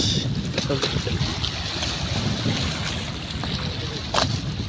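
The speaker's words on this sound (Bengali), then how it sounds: "দেখুন মেঘনা নদী ঢেউগুলো, নদীতে অনেক ঢেউ, স্রোত আছে, নদী বাতাস" Wind and choppy waves on the rough Meghna River near Char Kishoreganj under a cloudy sky, heard as a steady broadband rush with low lapping water and gusty microphone buffeting throughout.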